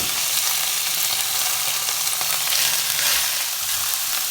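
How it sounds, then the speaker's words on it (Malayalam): Marinated netholi anchovies hit hot oil with popping mustard seeds, a dense, steady sizzle and crackle that stays loud and close throughout, with no voices. "കടുക് പൊട്ടിക്കഴിയുമ്പോൾ ഇതിലേക്ക് മിക്സ് ചെയ്ത് വെച്ചിരിക്കുന്ന മീൻ നമുക്ക് ഇട്ട് കൊടുക്കാം"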